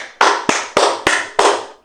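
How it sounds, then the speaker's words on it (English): Five loud, close, sharp hand claps in an even rhythm, each with a short ringing tail and nothing behind them. "But yeah, this is probably one of the best submissions yet. Round of applause."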